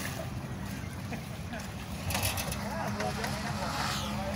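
A boat on a river in the Mekong Delta countryside, its low engine drone and water wash running steadily, with wind noise buffeting the microphone and rising slightly partway through.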